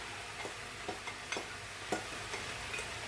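Minced meat and chopped vegetables fry in a pan with a steady sizzle, broken by a few soft scraping clicks from stirring; no one speaks.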